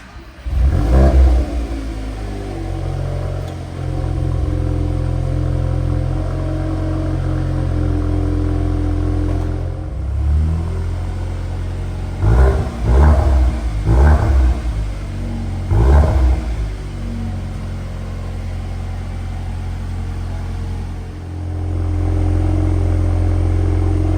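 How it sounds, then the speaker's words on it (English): A 2025 Audi S3 with an Akrapovic titanium exhaust cold-starts with a sharp rev flare, then settles into a deep, steady idle rumble broken by a few quick throttle blips, close and loud. "let's listen to a cold start from the new Akrapovic titanium exhaust"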